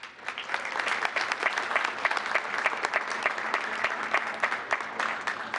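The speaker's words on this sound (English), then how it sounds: "if you could give them a nice big round of applause" A crowd at a town council meeting gives a group of honored students a round of applause, sustained clapping of moderate loudness with many distinct hand strikes, no speech.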